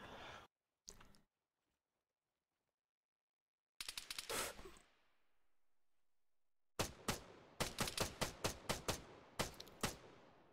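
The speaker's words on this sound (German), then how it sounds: "Nee, die schießen gerade auf mich." Bursts of gunfire in Arma 3: a few shots, a louder salvo with a fading tail, then a rapid string of about a dozen sharp shots, no talk.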